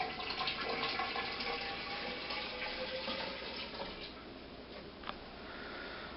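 Water runs steadily into a pipe being filled for a homemade slosh bar, a continuous hissing pour that fades slightly toward the end.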